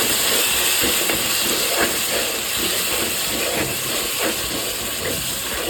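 Tomato, mint, turmeric and cinnamon-clove powder roast in a pan for chicken biryani, a loud steady sizzling hiss that carries on without pause, close up with no talking.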